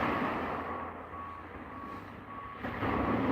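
A bulldozer working on a beach sounds a steady series of reversing beeps over a constant rumbling engine, with the beeps spaced evenly throughout.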